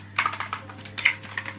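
Fast, close keyboard typing on a computer as a command is entered, a quick run of crisp, uneven clicks lasting about a second and a half with no voices.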